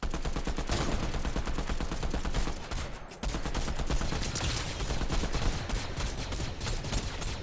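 Dense, continuous gunfire from the video game Fortnite, loud, close bursts of rapid shots that fill the whole stretch with only a brief dip near the middle and no talking.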